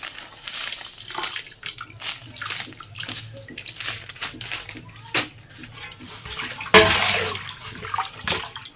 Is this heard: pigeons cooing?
no